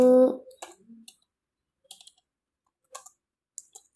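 Sparse clicks of typing on a computer keyboard while writing Python code, a few short bursts of keystrokes separated by pauses, close and quiet.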